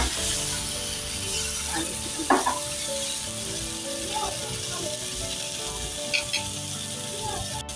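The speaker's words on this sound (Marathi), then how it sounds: "तुम्ही पाहू शकता आपण ना पॅन गरम झालेला आहे आपला आणि आपण ना आपले तंदूर पीस ठेवलेले आहे" Tandoori chicken pieces sizzle steadily in a hot pan as they are turned over, a continuous close frying hiss with occasional soft pops and stirring scrapes while a voice talks over it.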